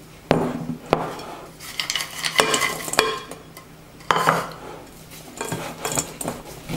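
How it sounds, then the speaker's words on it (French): Chocolate chips being stirred by hand into a smooth cookie dough in a bowl, with scraping strokes and occasional sharp clinks of a utensil against the bowl, close and fairly quiet. "Voilà, j'ai maintenant une pâte bien homogène à l'intérieur de laquelle je vais maintenant incorporer mes pépites de chocolat"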